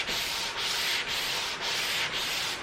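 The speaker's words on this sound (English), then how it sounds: "I'm just going to give it a really quick smooth sand. So this is a 240 grit." Hand sanding of a dresser surface with 240 grit sandpaper, a close, steady rasp that comes in even back-and-forth strokes about twice a second, with no talking.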